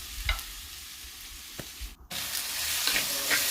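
Shallots sautéing with salt in a pan for a Kerala-style beef curry, a quiet scrape and stir at first, then a steady, louder sizzle that swells and holds to the end.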